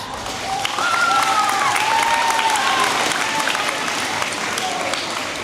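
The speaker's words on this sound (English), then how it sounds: "Let's give her a round of applause." Sustained applause from a crowd at a middle school eighth grade moving-on ceremony, broad and steady throughout, with a faint voice and tonal sound running underneath.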